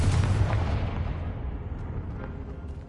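A Confringo blasting curse detonates in the Hogwarts Legacy video game, a loud, deep boom at the start that rumbles and slowly fades over a few seconds, with faint crackling debris trailing off.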